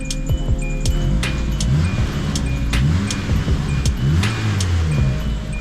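A car engine with a bad alternator idles up close with a rough, uneven drone, a whining tone and light metallic clinking rattles running throughout.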